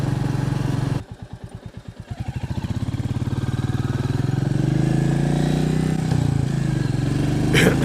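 A motorcycle with a Benelli-like character pulls away from rest, its exhaust rising from quick low pulses into a steady, loud, climbing engine note held close by.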